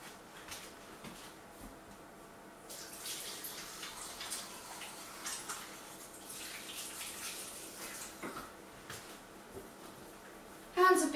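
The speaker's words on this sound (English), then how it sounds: "I need to go wash my hands" Water runs from a tap as hands are washed in a kitchen, a steady, soft splashing stream that fades in partway through, ending with a brief clatter.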